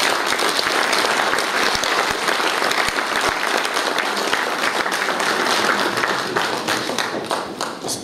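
An audience at an award ceremony applauds, a dense, sustained wave of clapping from a crowd that carries on for several seconds before easing slightly toward the end.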